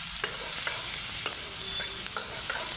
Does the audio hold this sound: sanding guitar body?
no